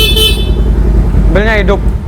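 A Kawasaki Ninja SS motorcycle's horn gives one short, loud toot near the end, under a voice talking over the idling bike.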